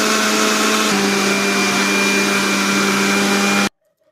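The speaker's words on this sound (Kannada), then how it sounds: "ಏಲಕ್ಕಿ ಪುಡಿನೂ ಇದಕ್ಕೆ ಸೇರಿಸ್ಕೊಂಡ್ಬಿಟ್ಟು ಇದನ್ನ ಒಂದು ಸತಿಗೆ ಚಲೋ ತಂಗೆ ಮಿಕ್ಸಿ ಮಾಡ್ಕೊಂಬರೋಣ" Mixer grinder blending mango juice with cardamom powder, a loud steady motor whine with a strong droning hum, close and continuous before stopping abruptly, leaving silence.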